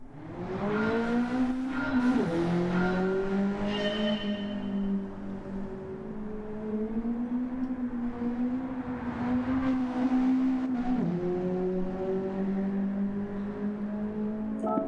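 A race car engine in Gran Turismo 7 drones steadily at high revs, its pitch dipping and climbing as it shifts gears, with a brief tire squeal early on.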